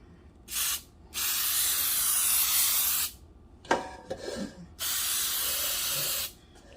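Cooking spray hisses onto a cake pan in several steady bursts of one to two seconds each, close and fairly loud, with a brief clatter between bursts.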